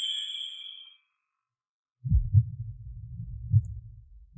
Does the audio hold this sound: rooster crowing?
no